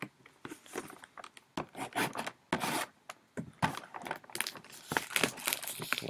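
Plastic packaging on a sealed 2014 Leaf autograph football mini helmet box is cut and pulled open, giving a run of close crinkling, rubbing and scraping bursts with short pauses between.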